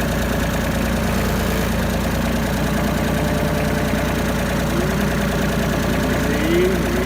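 A zero turn lawnmower engine idles steadily with a low, even rumble and faint knocking vibration, close and continuous while it is loaded onto a trailer, with some speech mixed in.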